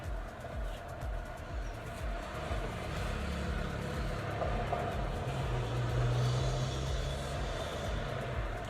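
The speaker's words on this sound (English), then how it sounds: "do you hear the traffic?" A steady low rumble of road traffic runs throughout, with engines droning at a distance and no clear pauses.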